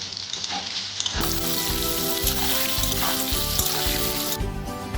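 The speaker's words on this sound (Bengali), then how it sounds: "বেগুনটা যতক্ষণ ভাজা হচ্ছে" Brinjal pieces fry in hot oil, a loud steady sizzle that jumps up sharply after about a second and carries on with bubbling crackle and a faint repeating clatter underneath, with no voices.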